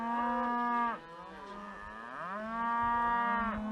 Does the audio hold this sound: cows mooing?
yes